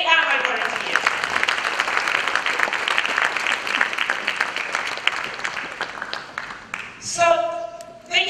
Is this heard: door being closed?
no